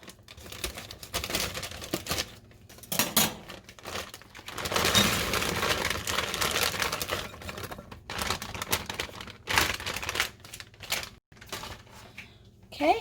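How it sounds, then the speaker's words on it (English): Plastic bag of hash browns crinkles and rustles in irregular bursts as scissors cut it open, with a few sharp snips and handling clatter close by, between brief pauses. "grab some scissors and open this up"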